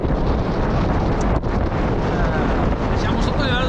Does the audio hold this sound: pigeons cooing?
no